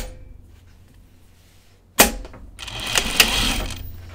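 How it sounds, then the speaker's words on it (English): A sewing machine runs along the underarm French seam of an Archer button-up shirt, sewn wrong sides together. A sharp clack comes first, then a steady close whir that holds to the end. "now I'm going to sew the underarm seam on this one"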